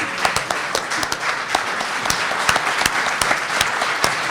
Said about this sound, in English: I'd like you all to stand up for one last round of well-deserved applause